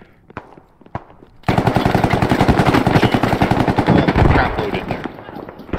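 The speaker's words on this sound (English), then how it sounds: "I shot him through the head and still saw him have enough time to shoot me" Rapid rifle and automatic gunfire from the video game Fallujah erupts after a few scattered single shots, a dense, loud rattling burst that continues for several seconds before easing slightly.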